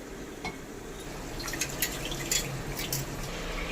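Water poured into a pot of rice for a country-chicken dum biryani, a soft, close splashing and trickling over a few seconds, faint and steady with no voices.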